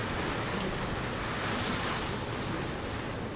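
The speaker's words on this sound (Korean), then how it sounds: "지금 이 바람 소리도" Strong wind blows at a fishing spot in bad weather, a dense, loud, continuous roar with rumbling gusts buffeting the microphone, constant throughout with no voices.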